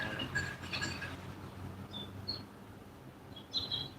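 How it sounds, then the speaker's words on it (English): Scattered birds chirp and tweet softly outdoors in the morning, short bright calls coming in little bursts over a faint background hum. "The birds are always so nice to hear in the morning."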